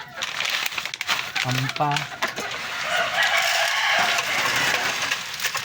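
Backyard chickens, two hens and a rooster, clucking and calling while being fed, with crinkling of a feed bag close by and someone talking over them.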